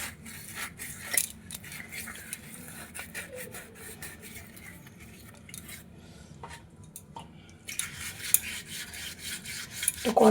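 Brass puja utensils scrubbed by hand with a scrubber, a steady rasping rub punctuated by clinks of metal vessels knocking together, close and continuous with brief pauses.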